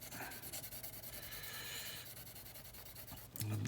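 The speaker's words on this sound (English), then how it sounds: "1000 grit sandpaper, just to give me a little bit of a polish there." A guitar nut is being polished with 1000 grit sandpaper, giving a soft, quiet scratchy rubbing in short repeated strokes, faint and close with no talking.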